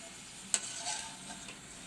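Wheat diamond biscuits fry in hot oil with a faint, steady bubbling hiss, and a single sharp click comes early on.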